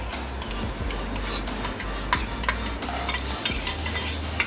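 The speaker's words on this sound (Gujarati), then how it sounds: "હવે આપણે આદુ મરચાં અને લસણને બરાબર સાંતળી લઈશું." Garlic, ginger and green chili sautéing in olive oil in a pan for masala macaroni, a soft continuous sizzle with scattered clicks of a spoon stirring against the pan, close and steady.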